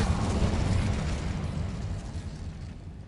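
A fire spell cast in the Hogwarts Legacy video game bursts out as a loud, dense whoosh and roar that peaks early and slowly fades over three seconds, with no voices.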